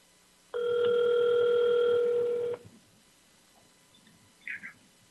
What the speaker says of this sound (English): Let me get Ryan Kilpatrick on the phone while I start talking here.